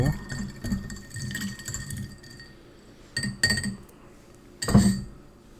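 Glass clinks and taps as a spoon stirs Tabasco hot sauce into a mixture, with sharp irregular clinks, a cluster near the end, and faint background voices.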